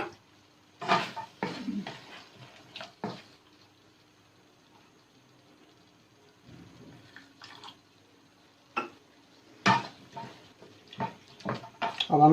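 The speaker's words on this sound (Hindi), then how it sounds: "अब हम इसमें मिक्स करेंगे।" Ingredients for a chicken and vegetable macaroni pasta sauce being stirred and mixed in a cooking pot, heard as scattered scraping and clinking bursts with quiet gaps between them, fairly soft and close.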